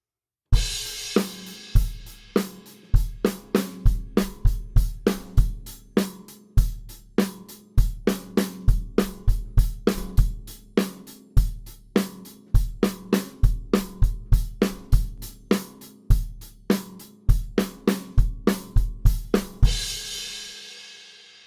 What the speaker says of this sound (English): And we'll put that after 1 bar of a rock beat, creating just a 2-bar phrase that repeats.